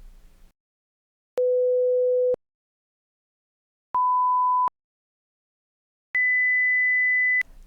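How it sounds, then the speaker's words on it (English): Three steady pure tones from a school hearing screening, each about a second long, separated by silence at even intervals and rising in pitch from one tone to the next. "presenting tones in a predictable pattern"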